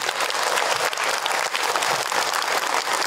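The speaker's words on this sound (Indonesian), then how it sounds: "Tepuk tangan atau buat ibu yang pertama" Loud, dense clapping from an audience at an Islamic religious lecture on married life and in-laws, a steady roar of many hands close by for the whole stretch, with no speech heard.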